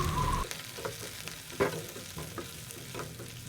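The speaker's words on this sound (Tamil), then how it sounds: "ரெண்டு டேபிள் ஸ்பூன் அளவுக்கு கடலைப்பருப்பு சேர்த்துருக்கேன் நல்லா ஒரு தடவை ஃப்ரை பண்ணிக்கோங்க" Chana dal and onion fry gently in a pan for a chutney, a soft, low sizzle broken by several light scraping strokes of a spoon, heard alone and fairly faint.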